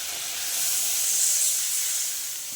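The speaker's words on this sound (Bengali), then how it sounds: "এবারে দিয়ে দেবো জল।" Water poured into a pan of hot fried spice paste for a rohu fish curry with potato, eggplant and lentil dumplings bursts into a loud, steady steam hiss that swells and then eases slightly.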